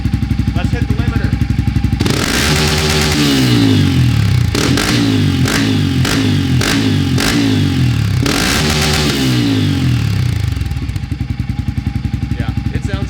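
A Toyota Land Cruiser 80 engine revs hard from idle up to the rev limiter in repeated pulls, bouncing off the limiter several times with stuttering cuts before settling back to idle, loud and close.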